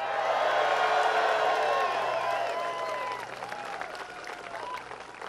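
Large campaign-rally crowd applauding and cheering at a presidential campaign announcement, a dense wash of clapping with whoops and whistles that stays loud, then eases slightly while continuing steadily throughout.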